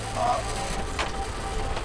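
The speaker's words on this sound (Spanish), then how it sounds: "La tensión se oye en las cuerdas y la madera." Ropes and timber creak under strain as a Roman-style wooden hoist takes up a heavy stone block on a construction site, a low steady groaning with a brief sharper crack partway through.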